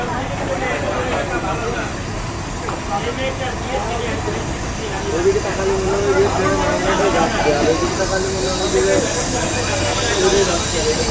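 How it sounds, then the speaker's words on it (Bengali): Sagardari Express made up of German-technology Indian LHB coaches rolls past close by, a steady loud rush of wheels and airy hiss that swells partway through, with talk over it. "জার্মান প্রযুক্তিতে নির্মাণ করা ইন্ডিয়ান এল এইচবি কোচের সাগরদাড়ি এক্সপ্রেস চলে যাচ্ছে"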